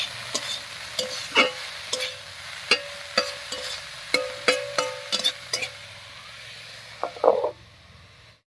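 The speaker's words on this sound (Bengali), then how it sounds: "এবারে মিশিয়ে ঢাকা দিয়ে দিয়ে থোড়টাকে একটু ভাজা ভাজা মতো করে নেব।" Banana stem seasoned with salt and turmeric fries in a pan, with a series of sharp spatula knocks and scrapes over a soft, steady sizzle.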